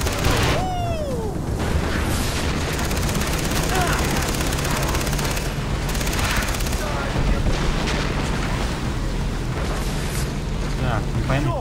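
Sustained gunfire from a mounted boat gun in the video game Far Cry 3, dense continuous bursts with booming impacts and explosions, loud and close throughout.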